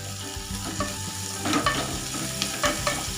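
Onions for a hotel-style veg kurma frying in a pan toward golden brown, with a steady close sizzle and repeated scraping stirs of a spoon against the pan, busy and fairly loud.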